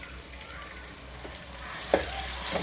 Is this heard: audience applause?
no